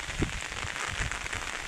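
Heavy monsoon rain pouring onto a rooftop in Odisha, a steady dense hiss of water with a few thuds of drops, continuous and fairly close, with no voices.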